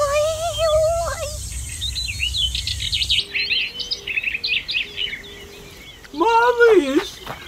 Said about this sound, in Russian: Может быть, птичка? Ничего себе, птичка!